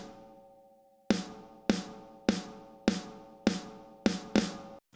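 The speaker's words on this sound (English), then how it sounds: "And then we got another one called Snare Ring Stereo." A ringy stereo snare sample from a thrash metal mix strikes seven times in a regular pulse, each hit leaving a long metallic ring. A sustained tone fades out before the first hit, and no one talks.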